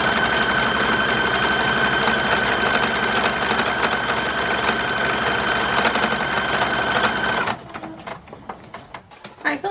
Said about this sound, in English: I am sewing in boning channels.